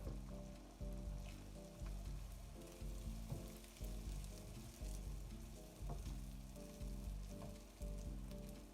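Two beaten eggs sizzle in a hot pan, a continuous crackling fry that stays fairly close and quiet with no voices.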